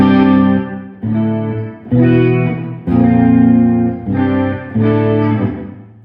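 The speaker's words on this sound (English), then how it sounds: "This is like a room reverb, very nice." Electric guitar played through a Carl Martin Headroom Mini reverb pedal set to a room-style reverb: a series of sustained, full chords, each struck and ringing with a short ambient tail, loud and close with no talking.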